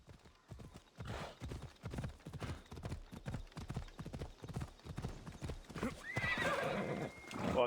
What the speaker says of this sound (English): Let's borrow this horse.